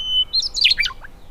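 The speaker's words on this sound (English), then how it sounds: "And meadowlarks, of course, because they're always around and singing at this time of year." A meadowlark sings a short, bright phrase of quick, high warbling notes, close and clear against quiet open-country background.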